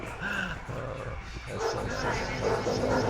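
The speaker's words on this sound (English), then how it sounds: "Two happy little dogs come by." Two small, happy dogs come by, making a few yips and whimpers under a person's voice greeting them nearby.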